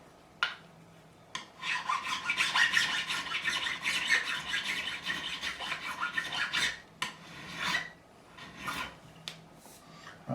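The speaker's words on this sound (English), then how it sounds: "I'm removing lacquer because it's clogging the file up." Hand file rasping lacquer off a fret on a Made-in-Japan Fender Stratocaster neck: close, steady scraping strokes with short pauses, loud and continuous without talk.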